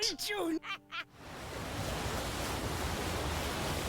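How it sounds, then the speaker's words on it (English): Sea waves in a One Piece anime episode wash in as a steady, broad surf roar, continuous and moderately loud, after a few brief voice sounds at the start. "We're at the sea."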